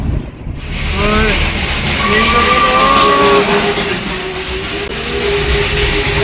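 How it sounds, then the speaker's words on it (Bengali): A train passes on the hill railway line beside the road near Ghum station on the way to Darjeeling. Its loud rumble rolls on steadily, and a high squeal and a horn-like tone sound partway through. "এখানে দেখো এরকম রাস্তার পাশ দিয়ে কিন্তু এরকম রেল গাড়িগুলো যায়, রেল লাইনটা।"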